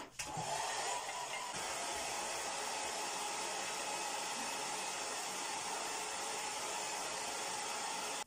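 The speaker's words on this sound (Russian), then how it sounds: "я включаю фен и просто сушу" A hair dryer drying paint runs steadily at close range, a loud continuous whoosh with a bright airy hiss that holds the whole time.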